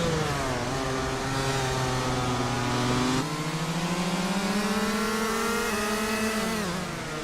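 Race cars in a racing video game accelerate hard off the start line, their engines rising in pitch together through gear changes, loud and continuous, with several engine tones layered and no talk.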